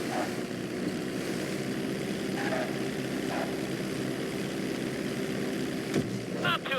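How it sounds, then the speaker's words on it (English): A propeller plane in GTA V comes in for a practice emergency landing on a road bridge at flight school. Its engine drones steadily at moderate distance with a few brief rattles near the end. "You're going to practice an emergency landing on that bridge, straight ahead."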